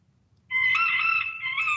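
A rooster crows once, loud and close, its call rising and holding in a drawn-out cock-a-doodle-doo among a flock of farm chickens.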